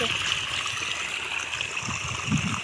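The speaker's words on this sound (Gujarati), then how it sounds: "કેવું મસ્ત પાણી જાય" Steady rushing water flows continuously from a farm pump with a broad hiss, like a strong stream pouring out, with no talk over it.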